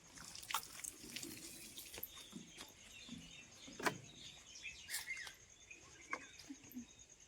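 Excess water flows and trickles through a home yard garden near flower beds. The burble is faint and uneven, with small splashes and drips and a few bird chirps, and nobody talks.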